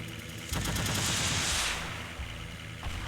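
Rockets striking a building in Teardown: a sudden loud blast of rapid crackling impacts and debris that swells for about a second, then thins into a rumbling tail as it dies away.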